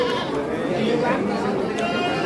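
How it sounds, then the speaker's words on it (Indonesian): Local and gembel sheep with small tails bleat at a livestock market, several bleats over a busy background with people talking nearby. "Kita lihat ini domba-domba lokalan atau domba biasa atau domba gembel teman-teman, dengan ekor yang kecil-kecil ini."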